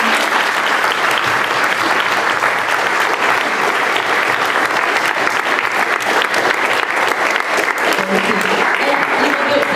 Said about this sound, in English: let's give them a round of applause and thank them